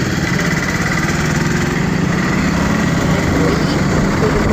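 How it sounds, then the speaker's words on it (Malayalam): Motorcycle engine droning steadily while riding on a road, a continuous close buzzing hum with faint wind, no breaks or gear changes, no voices. "അങ്ങനെ ബൈക്കിൽ പോയി."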